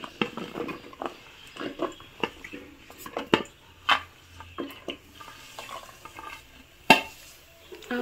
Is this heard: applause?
no